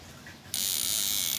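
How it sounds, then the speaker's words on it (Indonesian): Homemade PDC inverter fish shocker wired to a 32 A battery, switching on abruptly after a quiet moment into a harsh, steady high-pitched electrical buzz that holds loud and unbroken to the end. "ini saya masukkan ke aki 32 ampere dan ini hasilnya. Suaranya juga seperti ini."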